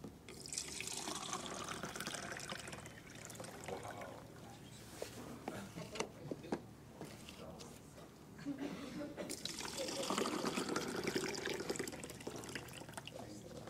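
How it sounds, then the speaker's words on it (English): Tap water runs steadily into a sink while fruits and vegetables are washed, with rinsing splashes and a voice speaking throughout. "I want to show you what happens if you clean your fruits and vegetables in that water"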